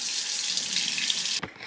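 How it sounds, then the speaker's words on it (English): Water pours steadily from a tap into a tray of seed-starting pellets, a close, even splashing rush that cuts off abruptly near the end, followed by a brief quieter trickle. "add some water here"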